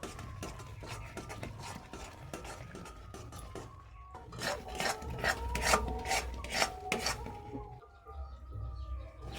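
Chana dal sandesh mixture being stirred continuously in a pan, a rasping scrape of spoon against metal repeating in quick strokes, growing more vigorous midway, close up with no talk.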